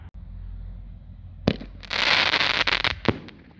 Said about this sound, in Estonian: Ja lõppmänguks äikesekunnidest on Super Thunder King